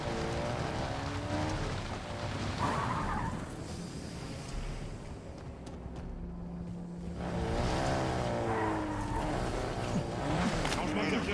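An in-game vehicle drives in Warzone, a steady engine rumble with surges of revving, while a voice talks over it at several points.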